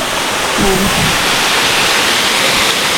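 Luluwasan Falls pouring steadily, a dense, loud, unbroken rush of falling water close by with no other sounds.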